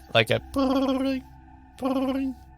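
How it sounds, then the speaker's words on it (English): A notification sound effect chimes in an audio drama: two quick blips followed by two longer electronic tones, clear and isolated against quiet. "the sound that you recognize as a notification"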